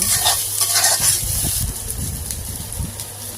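Chicken pieces stir-fried in a pan with turmeric, chili and coriander spices, a steady close sizzle with repeated scraping and stirring strokes throughout.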